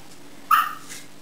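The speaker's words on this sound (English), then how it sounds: "Oh, let me quiet the dog down a minute." A dog indoors gives a single short, sharp bark or yip close by, followed by a faint whimper, against quiet room background with no talk.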